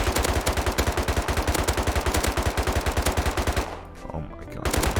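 An MP5 submachine gun fires in the video game Rust: loud, rapid, evenly spaced automatic shots in a long continuous burst, a brief pause, then firing resumes.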